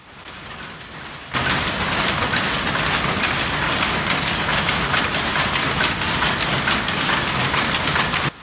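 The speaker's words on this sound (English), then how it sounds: "It was pretty loud in the weave room, but not all of the looms were going at once." Dense, loud mechanical clatter of weaving looms in a Lowell textile mill weave room, not all running, fills the space, a steady rattling roar after a quieter start, with no speech.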